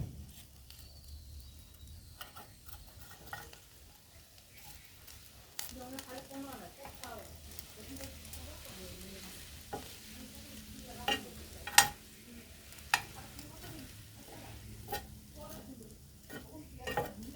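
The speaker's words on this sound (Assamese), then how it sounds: "আৰু এতিয়া মই মাছখিনি ওলটাই দিছোঁ। মাছখিনি বহুত গৰম, সেইকাৰণে মই চামুচেৰে ওলটাই দিছোঁ।" Fish frying in hot oil for an Assamese kholat dia masor pitika dish, flipped with a spoon, giving a steady low sizzle broken by scattered scrapes and clinks through the pan.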